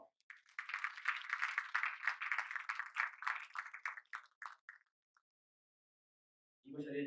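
Audience applause for a dance school director at a stage musical: dense, steady clapping for about five seconds that thins out and stops, then a voice starts up near the end.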